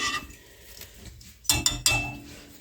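A utensil mixes hotpot sauce with mirin in a bowl, with a soft scrape, then three quick, bright clinks against the bowl close by.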